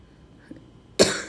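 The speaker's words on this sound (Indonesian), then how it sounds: "Sorry ya guys, miss batuk-batuk ini." A single sharp, close cough from a woman teaching a physics lesson, sounding abruptly after near silence.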